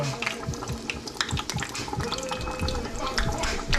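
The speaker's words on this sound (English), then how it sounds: "Frying up some parsley." Parsley fries in hot oil, sizzling and crackling steadily, a dense close hiss with scattered pops throughout.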